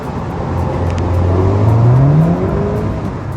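A car engine in high gear revs up hard from about 50 miles an hour and climbs steadily in pitch as it accelerates, loud and close, then eases slightly at the end.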